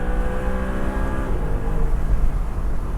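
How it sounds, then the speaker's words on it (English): A sports car engine revs hard and steadily under load out to 8,000 RPM, then the pitch drops as it shifts, with the rumble continuing loud and close. "It's a nice sounding engine"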